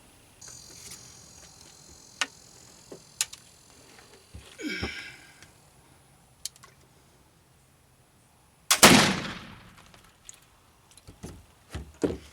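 A single black powder rifle shot cracks out sharply partway through, followed by a decaying roar, amid scattered clicks and handling sounds in an otherwise quiet outdoor setting.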